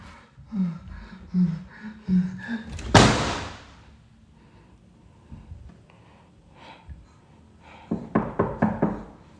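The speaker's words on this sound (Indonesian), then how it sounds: "Ada suara ketukan" Knocking on a door in a supposedly haunted wealth-ritual house, with a series of sharp raps near the end after a loud bang and scattered murmuring voices earlier.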